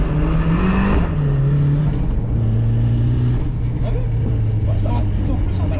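A 750 hp BMW M2 drifting at Lohéac, its engine droning loud and close as it holds a steady pitch, then dips and climbs again, with people talking in the cabin over it.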